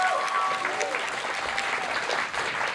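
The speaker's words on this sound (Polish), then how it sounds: "Wielkie brawa" Steady applause from the audience at a student concert as band members are called onto the stage, moderately loud and continuous, with a whistle near the start and a brief voice under the clapping.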